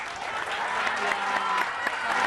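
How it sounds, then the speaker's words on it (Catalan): Steady applause from a group in a television quiz show studio, a dense patter of clapping that holds evenly throughout at moderate loudness. "li fem un aplaudiment"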